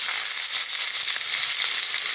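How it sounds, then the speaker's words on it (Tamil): Onions hitting hot oil in a kadai, a steady bright sizzle that fills the whole moment without pause, close and moderately loud with no voices. "எண்ணெய் சூடாகிடுச்சு. இப்போ நம்ம வெங்காயம் போட்டுக்கலாம்."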